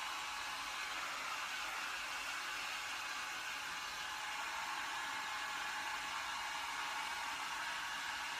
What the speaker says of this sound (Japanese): なんかドライヤーの音も慣れてきたね